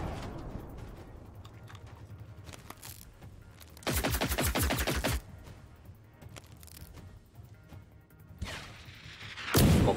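Gunfire in the video game Generation Zero, with a loud sustained burst of rapid automatic shots and a few scattered single shots heard alone over quiet game ambience.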